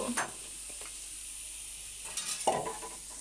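Onion and chopped tomato sizzle softly in a pan, with a couple of brief spatula scrapes as the mixture is stirred.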